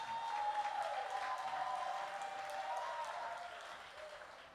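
A church congregation claps in honour of long marriages, a soft, moderately distant patter of many hands beneath a sustained tonal hum, slowly fading toward the end.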